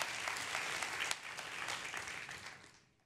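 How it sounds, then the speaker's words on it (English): Conference audience applauds steadily in a sustained wash of clapping that fades out toward the end. "not only should we give them a round of applause"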